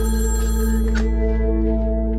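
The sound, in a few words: telephone ringing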